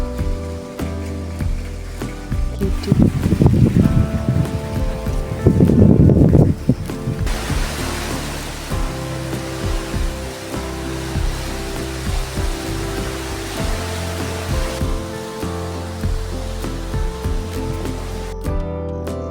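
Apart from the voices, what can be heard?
rain falling in a Himachal village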